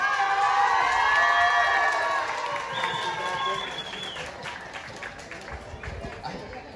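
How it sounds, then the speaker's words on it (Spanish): Crowd cheering and applause at a local candidate presentation, with high shouts and whoops over scattered clapping. The cheers are loud at first and fade into a busier murmur of crowd noise. "Fuerte los aplausos, por favor."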